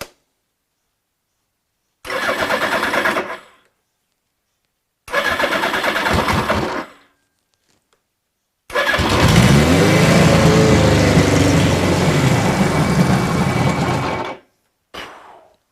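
A Suzuki GS1000 motorcycle engine cranks in two short bursts, then catches and runs loudly and steadily for several seconds before cutting off, heard close up.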